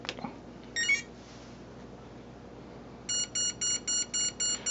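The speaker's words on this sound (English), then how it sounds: "There's the fast flashing and beeping." Rapid, evenly spaced electronic beeps from a YGE low-voltage electronic speed controller on a Spartan Vortex setup repeat in a quick series after a short chirp, sharp and close over a faint background hum.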